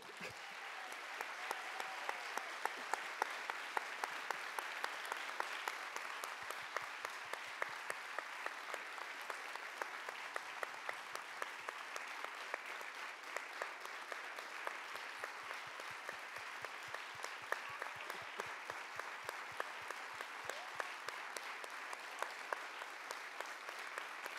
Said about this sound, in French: Je voudrais qu'on leur fasse un tonnerre d'applaudissements